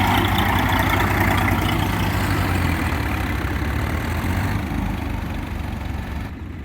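A heavy tractor engine idles steadily nearby, a continuous low rumble with a constant throb that eases off slightly toward the end.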